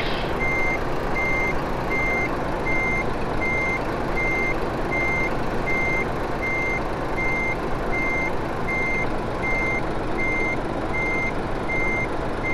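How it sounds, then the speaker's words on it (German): A truck in Euro Truck Simulator reverses with loud, evenly spaced reversing beeps repeating over a steady engine rumble, no voices. "jetzt darfst du aber rückwärts fahren."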